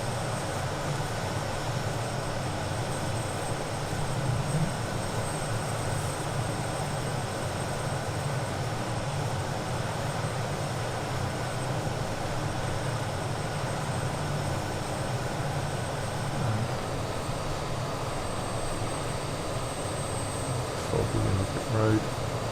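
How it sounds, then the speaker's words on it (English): An Aurigny RJ85 jet airliner taxiing forward at Guernsey, its engines giving a steady, loud whine and rumble from inside the aircraft, with voices talking over it. "And then we'll just taxi forward."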